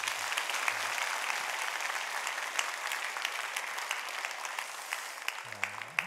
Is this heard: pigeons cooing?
no